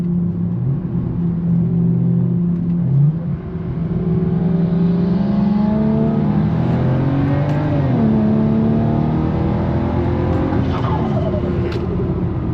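A BMW E92 coupe pulls hard under acceleration, its engine note climbing steadily in pitch with a brief dip near three seconds, then rising again as it revs on, loud and close from inside the car without talk.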